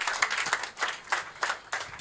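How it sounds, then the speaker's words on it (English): Audience applause welcoming a speaker at an investment forum in Nigeria: separate bursts of clapping rising and fading in waves, moderately loud and close, with no talking over them. "With a round of applause, please, you can do it better. Make it louder."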